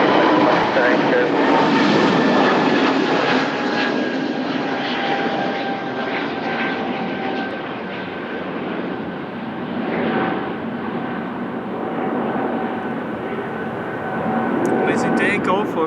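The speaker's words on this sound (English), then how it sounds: "Takeoff of the Airbus A320neo. It's going to Heathrow, London." An Airbus A320neo jet takes off from Lisbon Airport bound for London Heathrow, a loud, steady broadband engine roar with a sustained whine that slowly fades over about sixteen seconds, with talk over it.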